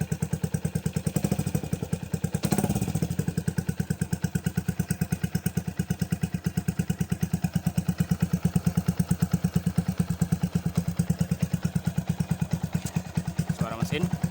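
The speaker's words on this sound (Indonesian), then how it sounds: "Suara mesin" A Yamaha Jupiter MX New motorcycle with its original engine block idles steadily up close, an even rapid thumping pulse that holds throughout, with a brief clatter early on.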